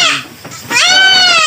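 Boer goat bleating on a goat farm: one loud, wavering bleat that rises and holds to the end, preceded by a shorter, fainter cry from the herd.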